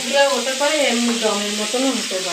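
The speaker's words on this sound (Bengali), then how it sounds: "এখন মাছটা ভাজা হোক আস্তে আস্তে" Fish shallow-frying slowly in a pan gives a steady, close sizzle with a tonal, voice-like humming layered over it throughout.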